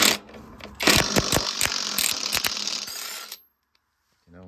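A cheap cordless impact wrench on outer rim bolts gives a loud, close burst of rapid rattling hammer blows for about three seconds, then stops, leaving near silence.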